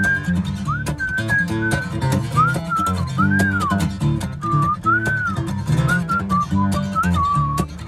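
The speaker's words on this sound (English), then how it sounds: "All rise for the whistling of Andy Griffith" A musician whistles a wavering, bright melody over a steady backing of instruments during a live set at the Peace Love Beer & Music Festival. The whistling is sustained and prominent throughout.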